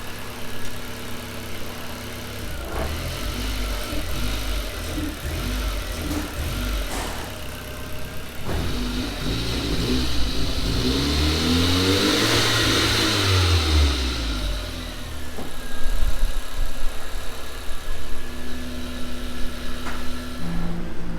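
A car fitted with a swapped 1.8T 20-valve engine runs steadily in a workshop, its idle rising into a long rev that sweeps up and falls back near the middle, then settling into a rougher, louder idle toward the end.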